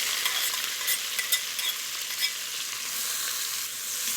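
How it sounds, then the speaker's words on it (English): Peppers, jalapeno and onion fry in bacon fat, giving a loud, continuous sizzle close by, broken by scraping stirs and tossing in the pan, with no talking. "I'm just going to toss those around and fry them off until they have softened"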